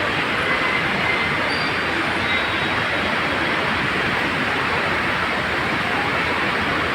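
Dense, steady roar of heavy rain pouring onto flooding city roads near Madhapur Metro Station, without a break, a broad hiss filling the whole stretch at an even, loud level.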